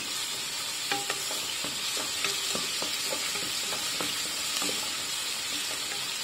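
Garlic sizzles in hot oil in a pan, a steady close frying hiss with occasional light stirring scrapes and clicks throughout.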